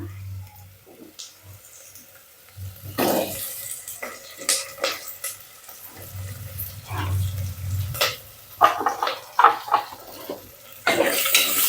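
Cut potatoes go into a hot pan for aloo bath and get stirred with a spoon, bringing repeated metallic scrapes and clinks, soft sizzling and scattered knocks in an irregular rhythm, close and moderately loud.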